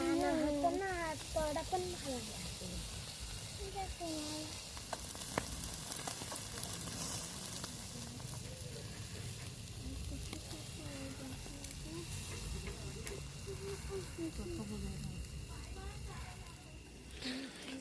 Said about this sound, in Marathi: तेल सांडतंय खाली त्याच्यामुळं जाळ होते मध्ये मध्ये